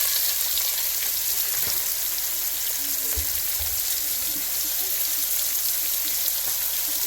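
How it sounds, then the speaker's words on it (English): Onions for arroz con pollo frying in a pan, giving a continuous close sizzle with a few soft stirring knocks and no talking. "We're going to add our onions"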